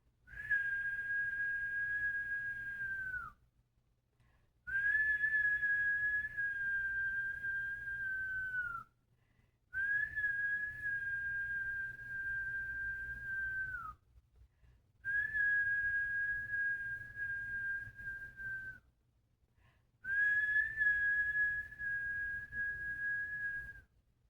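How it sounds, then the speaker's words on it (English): A shrill whistle sounds in five long, steady blasts, each several seconds long with short pauses between, loud and close over a low background hum. "I blow the whistle."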